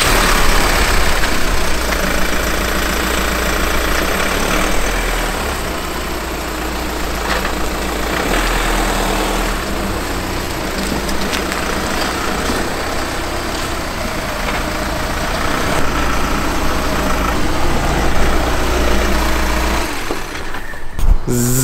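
A Volkswagen Transporter van's engine runs steadily with a low, continuous idle-like rumble as it is driven slowly into a garage, loud and close throughout, with a brief shift near the end.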